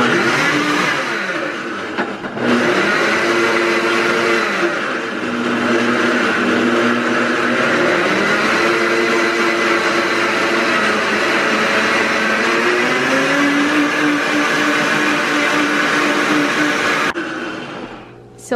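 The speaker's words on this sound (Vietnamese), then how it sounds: "Try the blender out for the first time." A new countertop blender runs for the first time, a loud, harsh whirring motor drone that holds steady for most of the stretch before cutting off near the end, with no talk over it.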